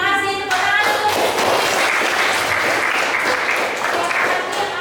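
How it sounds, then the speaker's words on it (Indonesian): A junior high classroom applauds a student after she shares her view, a voice trailing off at the start before many small hands clap briskly and steadily together. "Tepuk tangan dulu."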